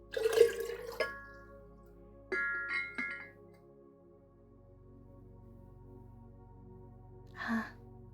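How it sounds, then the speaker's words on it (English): Water is poured with light glassy clinks and drips, quiet and close, ending in a short splashing burst after a pause. "We just hear some pouring of water."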